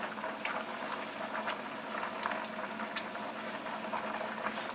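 Chicken broth bubbles at a steady rolling boil as homemade noodles go in, a soft continuous simmer with occasional small splashes and plops.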